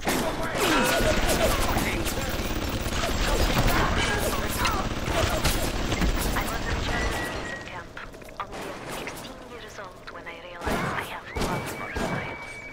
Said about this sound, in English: Oh, he's shooting my bot.